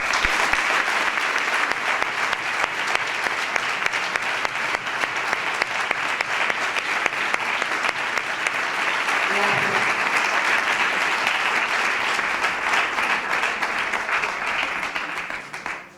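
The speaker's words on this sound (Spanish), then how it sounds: "Así que un aplauso muy grande para ella." An audience at a literary competition ceremony in Marchena gives long, sustained applause, a dense even roar of clapping that holds for about fifteen seconds before cutting off, with a brief voice partway through.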